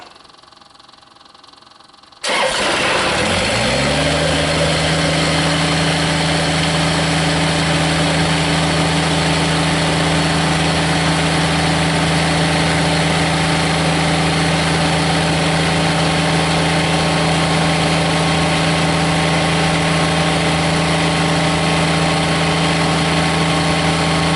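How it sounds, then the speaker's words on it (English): A Kubota BX24 compact tractor's diesel engine cranks briefly and catches after a quiet start, then settles into a loud, steady idle with a constant low drone that runs through the rest of the recording. "Now we'll see if this will do the cranking test when we go to start it."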